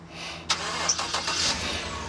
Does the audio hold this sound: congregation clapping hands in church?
no